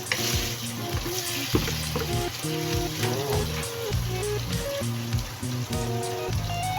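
Tomatoes dropped into a hot frying pan, sizzling loudly and steadily in oil with a dense, crackling hiss and bubbling throughout.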